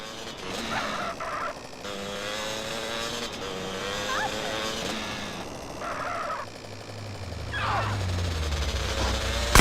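A car in the video game GTA San Andreas, driven in first-person view, revs its engine amid busy game noise, with the engine note climbing and growing louder toward the end.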